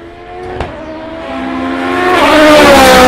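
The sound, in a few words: Honda NSX Concept GT race car accelerating down straight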